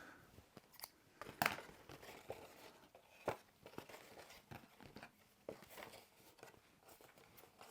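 Scissors snip through excess paper while a box is being folded, a series of quiet, irregular cuts and crinkles with soft handling noises in between.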